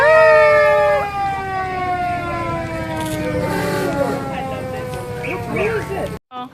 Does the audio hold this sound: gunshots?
no